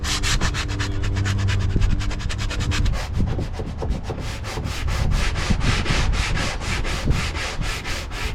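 Sandpaper wrapped around a stiff putty blade rubbed into corners while fiberglassing the deck of a wooden boat, a steady, close, continuous scraping in quick back-and-forth strokes.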